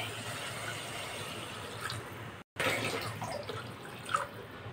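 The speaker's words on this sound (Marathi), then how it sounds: "आता आपल्याला यामध्ये पाणी घालायचं आहे" Water poured into a pan of spiced oil for shev bhaji makes a steady, fairly quiet gushing and sizzling wash that runs throughout, broken by a brief dropout midway.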